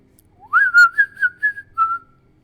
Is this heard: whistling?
yes